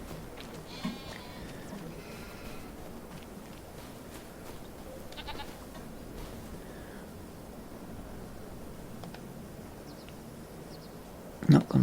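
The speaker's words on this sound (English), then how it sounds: "Afternoon sheeps and goats." Sheep and goats bleat in Farming Simulator 25 on a farm map, a few short calls early on rising over a steady background ambience, with one louder burst near the end.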